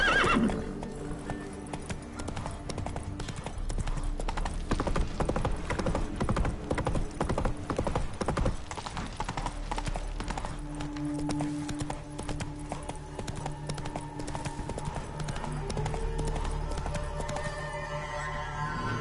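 Roach the horse gallops in The Witcher 3: Wild Hunt with quick, close hoofbeats and a clear whinny, over game music and effects, with no talk.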